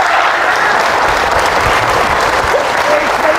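Loud, sustained applause from a church congregation in Pandi, Bulacan, clapping for the Lord like heavy pouring rain, a thick unbroken wash of claps with voices faintly mixed in.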